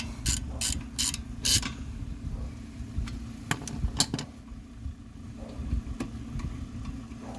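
A ratchet loosens the rear brake caliper bolts on a 2006-2011 Honda Civic, giving close bursts of rapid clicking separated by short pauses over a low background hum.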